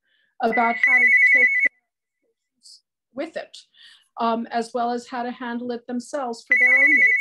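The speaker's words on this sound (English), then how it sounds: "Sorry for the phone, I don't need to answer it." A phone rings in a room with a repeating electronic ringtone, starting, stopping, then starting again, while a person keeps talking over it.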